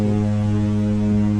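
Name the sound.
cruise ship foghorn sounded by pressing button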